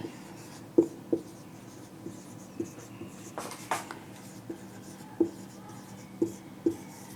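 Pen writing on paper during a maths lesson, giving a series of soft, short scratches and taps at irregular intervals, close and quiet over a faint room hum, with no talking.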